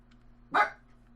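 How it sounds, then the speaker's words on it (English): A single short dog bark rings out over a low steady background hum, fairly close and brief. "I'm sorry about that dog you hear in the background."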